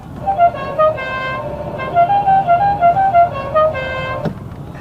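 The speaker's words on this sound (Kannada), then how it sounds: "ಇದರಲ್ಲಿ ಯಾರಾದ್ರೂ ಮುಂದೆ ಜರಗಲಿಲ್ಲ ಅಂತಂದ್ರೆ ಒಂದು ಸ್ಪೆಷಲ್ ಹಾರ್ನ್ ಐತೆ ರೀ." A special musical horn on a 2025 Toyota Hilux pickup plays a loud, close melody of short, distinct tuned toots, ending with a sharp click.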